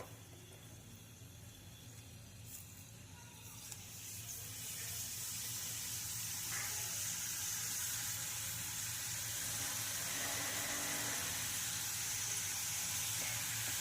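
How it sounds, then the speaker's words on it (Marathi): Karanji pastries filled with peanut stuffing frying in hot oil, a dense hissing sizzle that swells louder after a few seconds and then holds steady, close up with no voices. "तेलसुद्धा छान तापलेलं आहे तर तळायला सुरुवात करूया"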